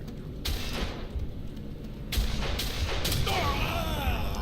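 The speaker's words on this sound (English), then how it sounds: "I can use my grenade launcher" A grenade launcher fires in the Quake 4 game, with loud thumping shots and booming bursts over a noisy, dense battle backdrop, followed by whooshing sweeps toward the end.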